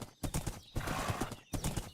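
A horse gallops in the Minecraft video game: quick bursts of hoofbeats come in three close groups with short pauses between them, and a whinny sounds alongside, all fairly loud with no talk.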